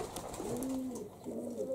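A pigeon in a dovecote gives a soft, close, rolling coo, two throaty phrases about a second apart, with no human voice.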